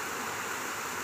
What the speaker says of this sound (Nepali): सानो झरना